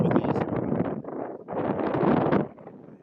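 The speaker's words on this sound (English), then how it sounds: "It's quite windy." Wind gusts against a phone microphone on a canal-side walk, giving loud, rough buffeting that swells and drops in waves, close and muffled.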